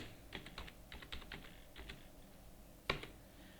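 Quiet keys on a computer keyboard are typed in short clustered bursts while entering currency details in Tally Prime, followed by a pause and one sharper, louder keystroke near the end.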